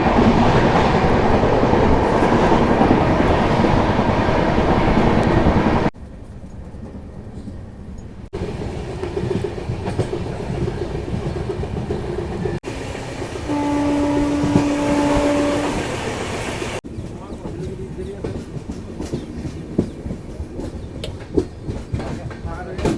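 A Garib Rath express train running at night rumbles steadily with clickety-clack from the wheels on the rails, interior carriage noise close and continuous with brief tonal hums and a change in sound partway through.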